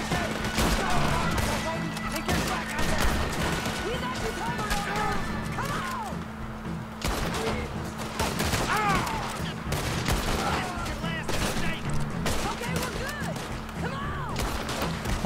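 Gunfire in the video game Red Dead Redemption 2 during a prison breakout: rapid, loud shots crackle almost continuously, with booming reports layered over game voices and a constant action soundtrack.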